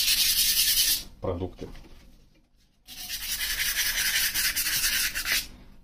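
Audi A4 B8 fog light glass rubbed and polished by hand, bursts of close scratchy rasping with a pause in the middle where a voice briefly speaks.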